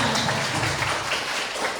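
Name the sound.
classroom applause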